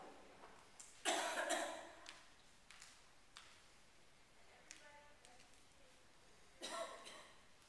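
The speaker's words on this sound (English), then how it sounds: "I cough when I run there too." A few harsh coughs and throat-clearing sounds during a yoga warrior flow class, with a loud burst of coughing early on, quieter rasps in between, and another cough near the end in a quiet room.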